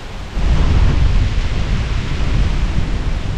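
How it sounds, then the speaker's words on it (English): Steady, loud rain pours down during a storm in Yosemite Valley, a dense continuous hiss that swells in after a brief quieter moment and holds without a break. "Well, it's raining."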